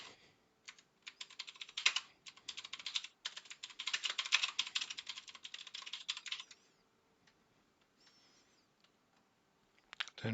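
Rapid typing on a computer keyboard while composing an email, dense bursts of clicking keystrokes for about six seconds, then a few scattered faint taps and a final brief clack.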